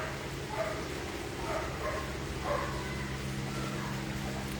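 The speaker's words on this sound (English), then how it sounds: "All the dogs in the neighborhood are going off at one time" Neighborhood dogs bark and yip intermittently at a distance, faint over a steady low hum and background noise.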